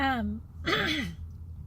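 A short throat clearing with a rough, voiced cough-like burst, following a brief hum, close and moderately loud over low background noise.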